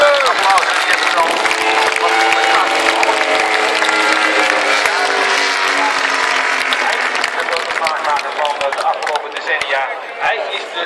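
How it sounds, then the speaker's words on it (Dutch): A large crowd at the MotoGP TT Assen starting grid claps and cheers loudly and steadily, with a commentator talking over the dense applause throughout. "Verdient toch wel een applaus. Die heeft het al."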